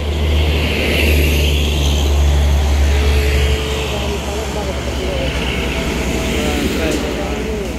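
A double-decker bus engine rumbles loudly and steadily nearby, with a deep drone that eases slightly partway through, amid traffic noise.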